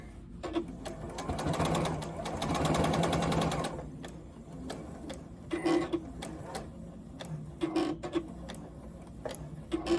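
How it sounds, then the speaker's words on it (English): A sewing machine stitches a quilt's binding seam at a corner, running in a steady whirring burst for a few seconds, then stopping and restarting in shorter runs with mechanical ticks and clicks. "I'm going to use my stiletto to hold this corner in place while I sew this seam to the corner"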